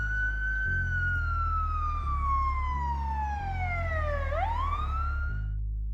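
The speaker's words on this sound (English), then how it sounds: "we saw ambulance number 13 go past." An ambulance siren passing in Los Angeles, a loud wailing tone that sweeps slowly downward and then jumps back up as it goes by, over steady low traffic rumble.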